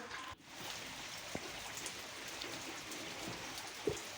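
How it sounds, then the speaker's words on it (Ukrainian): Water still dripping from a roof after a brief rain, heard as a steady wet patter outdoors with a few louder isolated drops standing out near the end. "з даху скапує ще"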